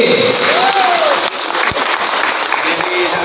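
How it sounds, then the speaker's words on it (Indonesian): An audience at an education workshop bursts into loud, dense clapping that fills the room and carries on steadily, with a voice heard faintly under the applause. "Tepuk tangan sekali lagi untuk SPG."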